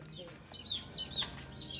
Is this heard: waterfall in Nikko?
no